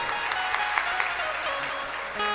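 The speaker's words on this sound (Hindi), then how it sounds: "ताली बजाओ जोड़ते 3 बार।" An audience claps in a slow, even rhythm, several soft hand claps spaced apart over a steady background hum, with no talking.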